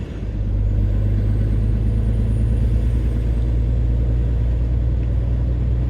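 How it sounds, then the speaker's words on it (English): A flatbed truck on tarmac, with a loud, steady low engine and drivetrain rumble that holds constant throughout, up close and with no talk. "I'm already wheel spinning, and I'm now on proper tarmac"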